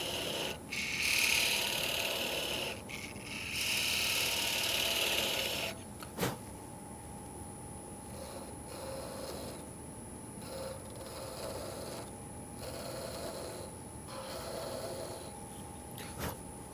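A gouge scrapes and rasps against spinning wood on a lathe while a mortar and pestle is being shaped. A harsher cutting stretch in the first six seconds settles into a steadier hiss over the constant machine hum.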